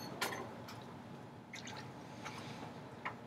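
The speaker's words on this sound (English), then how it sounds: "I'm going to take some black and put it inside here" Black ceramic glaze is poured into a piece, giving soft, close drips and wet splashes scattered over a quiet background hiss, faint and intermittent.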